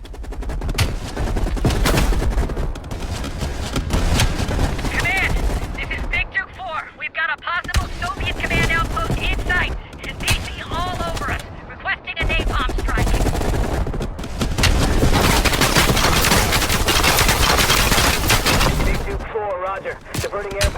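Heavy, sustained gunfire in Call of Duty Black Ops Cold War: dense bursts of automatic and rifle fire with booming impacts, loud and nearly continuous for the whole stretch, with brief lulls and combat voices mixed in.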